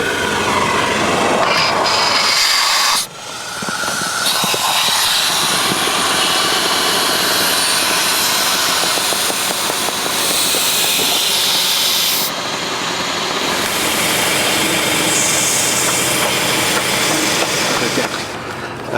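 Vehicle exhaust rushes into an air jack slid beneath the vehicle, giving a loud, steady roaring hiss that carries on without a break, with a brief dip early on before the flow resumes.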